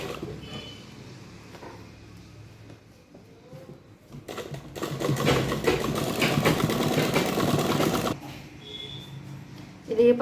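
Sewing machine stitching a kachali blouse with double seams, a steady mechanical whir that starts up and runs loud and continuous for several seconds before stopping, with quieter handling noise on either side.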